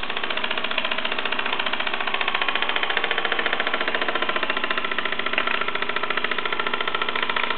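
A Cyldon Vulcan 13/3 model steam engine runs steadily in steam, giving a fast, even mechanical chuffing and rattle that stays at a constant level throughout, with no talking.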